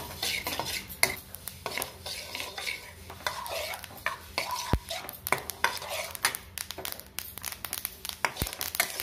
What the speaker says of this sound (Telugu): ఇప్పుడు ఈ నువ్వులు కూడా మంచిగా బ్రౌన్ కలర్లో వేసుకోవాలి.